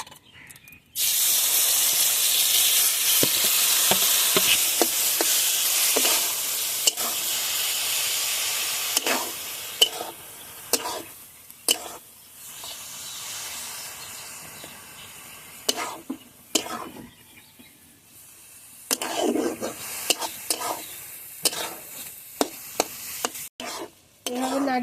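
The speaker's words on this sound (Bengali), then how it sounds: "তেলের মধ্যে এখন গ্রেট করা জুকিনিটা ঢেলে দিচ্ছি" Grated zucchini poured into hot oil in a kadai and stirred, giving a loud, steady sizzle and hiss that fades over time, broken by scraping stirs and clanks of the spoon against the pan.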